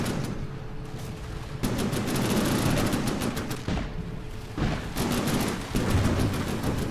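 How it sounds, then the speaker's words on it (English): Broadside guns on a warship in From The Depths fire in rapid, repeated volleys, a steady chattering barrage of booming shots layered over a constant rumble, loud and continuous throughout. "That the broadside guns."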